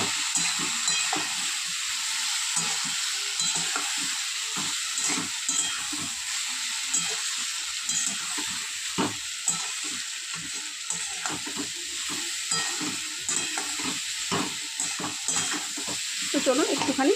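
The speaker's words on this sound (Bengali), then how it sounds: "অল্প জল দিয়ে ভালো করে কষিয়ে নেব" Turmeric, cumin and coriander powders cook down with a little water in a pan, making a constant loud sizzle and hiss under repeated scraping stirs, with no talk.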